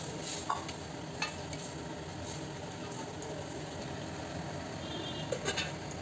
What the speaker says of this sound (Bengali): এবার ডালটা দিয়ে দেবো।